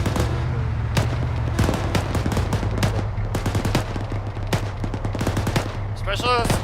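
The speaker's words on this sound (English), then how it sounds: "I'm seeing a lot of fire and sounds like a big cannon in there somewhere." Sustained automatic gunfire mixed with heavier booming cannon fire in an Arma 3 military simulation battle, dense bursts and sharp cracks repeating throughout over a constant low rumble, with a faint voice briefly underneath.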